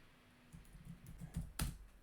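Keys tap on a computer keyboard in a short, uneven burst of soft clicks, close and quiet, ending in a slightly firmer press, with no voices.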